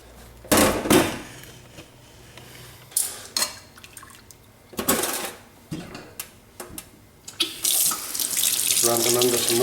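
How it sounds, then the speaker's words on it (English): Tap water runs in uneven bursts and splashes as octopus is rubbed and cleaned under it in a kitchen sink, a closer, steady stream taking over at the end; no talk. "Run them under some water and the skin will just rub off."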